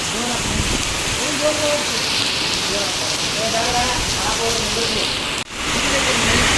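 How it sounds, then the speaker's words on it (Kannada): Heavy rain pours down outdoors onto a partly loaded goods vehicle, a loud dense roar with people talking underneath and a brief dip before it surges back. "ಮಳೆ ಮಾತ್ರ ಜೋರು ಹೊರಾಕತೈತಿ"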